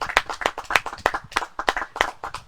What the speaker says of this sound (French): ça mérite vraiment des applaudissements nourris